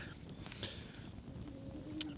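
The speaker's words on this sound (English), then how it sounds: "There's at least one owl out there." A soft, low hooting call sounds faintly in the distance against a quiet outdoor background, with a couple of small clicks nearby.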